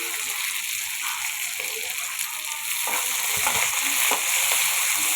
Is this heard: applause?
no